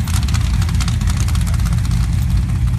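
Jeep engine idling at a drag race, the red Jeep of a driver sitting behind the wheel, a steady loud low rumble with a broad roaring hiss held evenly throughout.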